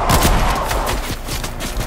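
Gunfire in an online shooter match, a close, loud barrage of overlapping shots with a rumbling low end, steady for the short stretch and with no talk over it.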